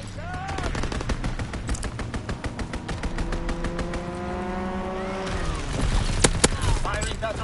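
Strafing-run gunfire in Call of Duty WWII: rapid, evenly spaced automatic bursts hammering close and loud for several seconds, mixed with a droning engine pitch that rises and falls, followed by sharper scattered shots near the end.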